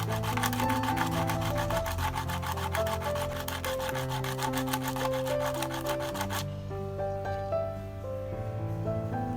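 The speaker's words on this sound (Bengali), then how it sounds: "ওপরের শক্ত খোলসটাকে ঘষে তুলে দিতে হবে" The hard shell of a lotus seed being rubbed, a close, rapid rhythmic scraping and grating that stops partway through, leaving only a faint background tone, while music plays throughout.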